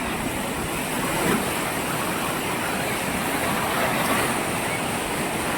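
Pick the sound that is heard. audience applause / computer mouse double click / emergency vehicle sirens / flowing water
flowing water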